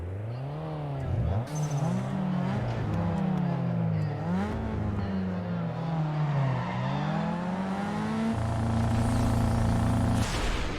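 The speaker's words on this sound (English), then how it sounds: "Okay, blew my engine." In the PlayStation 2 racing game Need for Speed ProStreet, a car engine blows up: loud, continuous game engine revving rises and falls through several pitch sweeps, then settles into a steady strained drone before cutting off.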